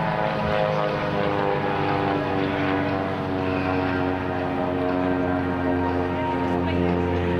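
An aerobatic propeller airplane performs at an airshow, its engine drone steady and loud with a strong harmonic hum throughout, heard from a distance alongside outdoor crowd noise.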